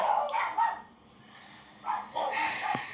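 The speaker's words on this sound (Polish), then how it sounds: "Przepraszam widzowie za moje psy." Dogs bark in several sharp, fairly close bursts, with a short lull between a first volley and a second, louder one.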